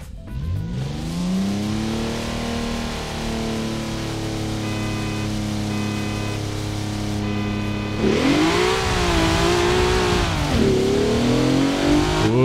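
Cars in a Forza Horizon 4 drag race roar continuously, engines rising in pitch through the gears, then a louder, harsher rev surges near the end; steady and close, with no talking.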